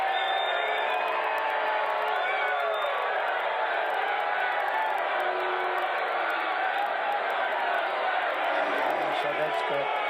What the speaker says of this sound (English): A really nice little booing compilation from Decoding Fox News